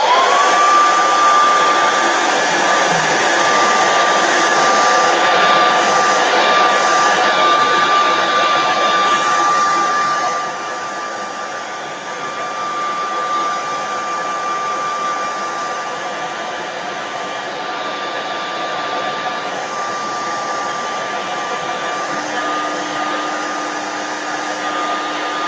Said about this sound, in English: Let me hit this with a hair dryer just to dry out this piece.